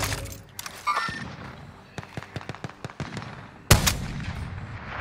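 Sniper rifle fire in the Call of Duty Warzone video game: a scatter of sharp, separate shots and clicks, with one loud, close crack near the end.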